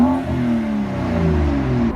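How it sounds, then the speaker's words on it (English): BMW F30 335i fitted with an Agency Power full catback exhaust, its engine note swelling in a loud, close rev and then easing down in a smooth falling drone. "It is an agency power full catback exhaust system."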